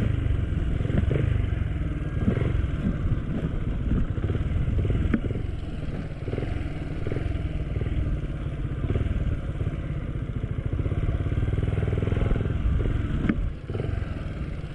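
A small motor scooter engine hums steadily throughout, with rattling and clattering bumps as it rolls over a rough, uneven road in Sierra Madre, Philippines.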